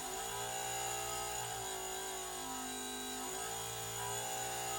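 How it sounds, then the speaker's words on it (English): A Model A Ford horn that hasn't been used in a while sounds in a sustained, buzzy blare whose pitch wavers and dips slightly, with no voices over it. "So when the horn sounds, it'll sound like this."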